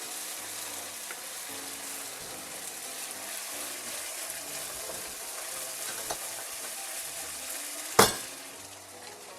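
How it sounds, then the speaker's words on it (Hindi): Masala spices frying in a kadhai for Punjabi dhaba-style rajma, a constant dense sizzle with occasional stirring scrapes and one sharp metallic clink near the end. "इसका मतलब मसाला अच्छे से फ्राई हो चुका है।"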